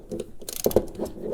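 A ratchet clicks in short bursts while the lower steering shaft bolt on a 2003 Lincoln Town Car is tightened, close and fairly loud, with a few louder metallic turns in the middle.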